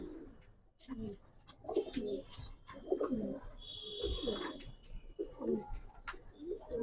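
Pigeons coo repeatedly at a pigeon farm housing high flyer, racer and fancy breeds, with chirps mixed in, while people talk nearby throughout.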